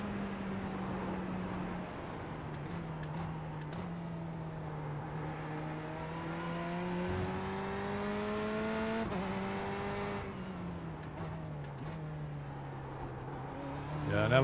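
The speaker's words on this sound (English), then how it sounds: "an LMP1 and a 2 barreling down on you coming into Indianapolis" Prototype LMP1 and LMP2 race cars in a 24 Hours of Le Mans iRacing session, a steady engine drone with shifting pitch as the cars close in and pass, rising at the end, loud and continuous.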